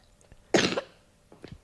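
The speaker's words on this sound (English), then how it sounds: "The cough at the end there, that was just a normal cough." A single ordinary human cough, close and fairly loud, followed after a pause by a couple of faint throat sounds.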